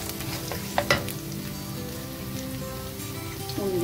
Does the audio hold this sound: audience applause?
no